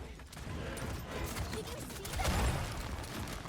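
Gunshots and ability effects in the video game Paladins on the Serpent Beach map, a dense, continuous wash of rapid firing and mechanical clatter that swells slightly toward the end.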